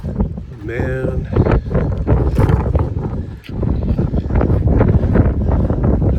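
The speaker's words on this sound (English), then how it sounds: "enough wind to blow it away in the morning" Strong morning wind buffets the microphone on a Pacific Crest Trail campsite near Idyllwild, a steady loud roar with gusting bursts, while a person talks over it.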